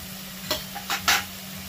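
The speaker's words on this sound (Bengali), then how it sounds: "কড়াইয়ের মধ্যে আলু পড়ছে" Potatoes cooking in a wok (kadai) for a prawn, cauliflower and potato dish, with three short scraping stirs of the spoon against the pan over a faint steady hum, close and fairly quiet.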